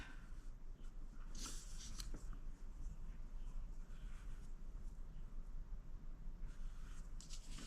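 A pencil scratches across paper while grapes are sketched freehand for a fruit-themed potholder design, producing soft, irregular strokes and brief scraping bursts over a steady, low background hum.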